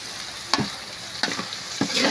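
Tomatoes sautéing in a pan for salmon sinigang with miso, a soft steady sizzle broken by three distinct spoon scrapes and stirs spaced about two-thirds of a second apart, close and fairly quiet with no talking.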